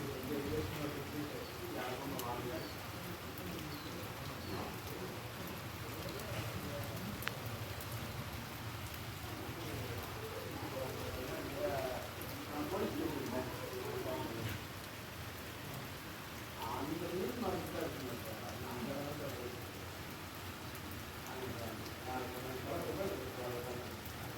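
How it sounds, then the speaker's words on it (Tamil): Heavy rain pours steadily outdoors in a garden, a dense continuous hiss, with a faint voice speaking under it at times. "மழை ஊற்று ஊற்றுன்னு ஊற்றிக்கிட்டு இருக்குது"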